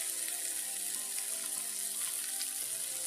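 Onions frying in oil in a pan for a Sri Lankan prawn tempering, a steady bright sizzle crackling evenly and close up with no talk.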